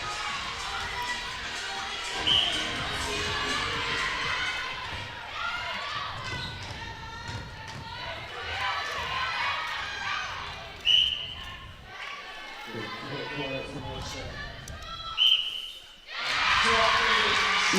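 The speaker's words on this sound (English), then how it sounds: "The crowd enjoying that one." A netball crowd at a university trophy final in Bath cheers and murmurs, swelling in short bursts and rising loudly at the end, under ongoing commentary voices.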